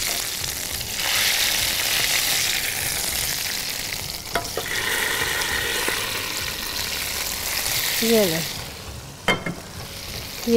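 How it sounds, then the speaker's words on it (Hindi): Hot tadka tempering poured into haleem sizzles and fries loudly and steadily for several seconds, with stirring clinks and scrapes near the end. "इसमें हमारा लग गया तड़का इसमें"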